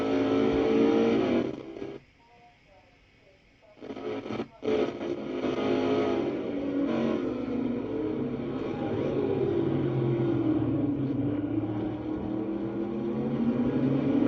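A race car engine in a NASCAR-style racing game at Riverside roars steadily and keeps rising in pitch as it accelerates down the straight, with one brief drop in the middle and no voices.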